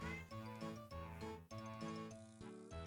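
A cat meows repeatedly in a steady series of close, loud, tonal calls over a dense harmonic backdrop that sounds like game music.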